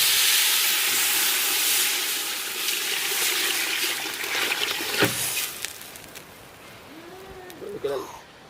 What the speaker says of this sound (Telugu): బియ్యానికి సరిపడా నీళ్ళు పోసుకుందాం.